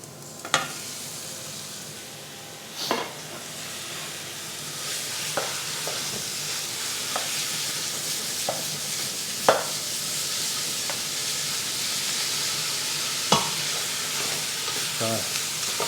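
Thin slices of veal sizzle in a hot pan with a continuous frying hiss, broken by a few sharp clacks of a utensil against the pan at irregular moments.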